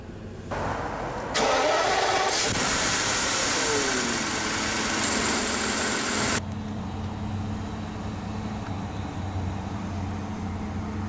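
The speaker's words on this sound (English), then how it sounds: "let's go ahead and fire up that buttery smooth V12" A 2001 BMW 750iL V12 cranks and fires, a loud revving surge that holds for several seconds before dropping to a smooth, steady idle heard from inside the car.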